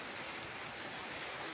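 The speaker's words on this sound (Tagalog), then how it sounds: "naulan kasi" Steady rain falls during an outdoor round of scrap collecting, a dense, even hiss of drops hitting surfaces that stays constant throughout with no talking.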